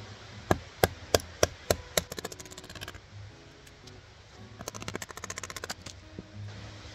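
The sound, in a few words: batoning: striking a knife into wood with a wooden mallet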